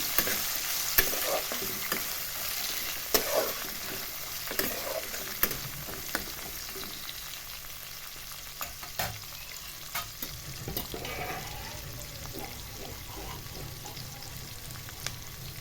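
Coconut shreds frying in a little oil while chickpeas and taro greens are prepared for a Bengali hilsa-head kochu shak dish, a steady close sizzle broken by repeated stirring scrapes, with no talking.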